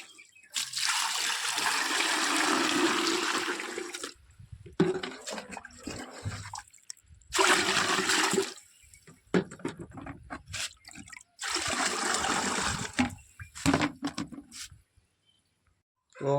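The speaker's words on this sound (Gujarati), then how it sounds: "હવે આપણે એમાં પાણી નાખી" Water is poured into a pot in several separate bursts, splashing and gushing loudly up close with short pauses between pours.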